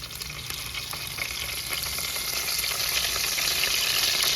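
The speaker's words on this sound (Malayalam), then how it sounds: "ആവശ്യമുള്ള കരിവേപ്പില ഇട്ട് കൊടുത്ത് ഉള്ളിയും വെളുത്തുള്ളിയൊക്കെ ഇഞ്ചിയൊക്കെ നല്ല ഒന്ന് വഴന്നിട്ടുണ്ട്" Curry leaves, onion, garlic and ginger sizzle steadily in hot oil for a fish-head curry, a dense continuous frying hiss that grows slightly louder toward the end, with no talking.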